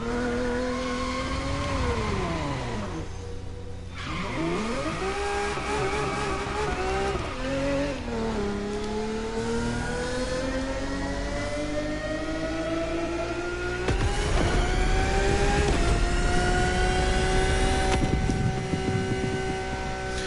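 A Lamborghini V12 screams through repeated climbing revs and gear changes in the racing game The Crew Motorfest, loud and continuous, with tire squeal in the background.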